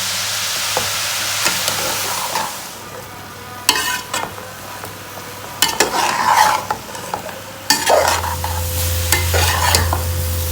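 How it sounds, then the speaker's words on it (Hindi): Carrots stir-fried in a pan for carrot-and-milk gajrela give a steady sizzle, broken by repeated scraping and clanking of a spoon against the pan, with no voices. "गाजरों को मैंने अच्छी तरह भून लिए।"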